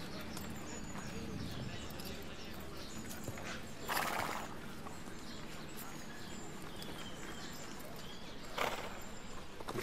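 Horses stand and shift outdoors, hooves clip-clopping on hard ground with a couple of louder snorts or neighs, birds cooing faintly and voices talking quietly nearby.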